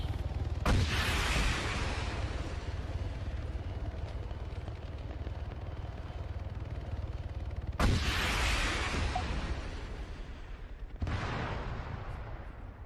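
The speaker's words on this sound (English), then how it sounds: "Enemy heli circling around Tower 3. Another good RPG opportunity, so again, got to go for it." Three sharp RPG launches ring out in Arma 3, each a loud broadband blast with a long rumbling tail, fired at an enemy helicopter circling a tower amid constant low battlefield rumble; no talk.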